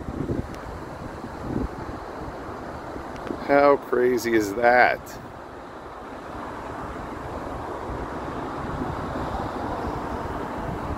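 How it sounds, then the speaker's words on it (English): Steady rushing storm-surge water roars pouring over the Shinnecock Canal locks under gusty, strong south wind buffeting the microphone, with a person speaking briefly in the middle. "Check out the water pouring over"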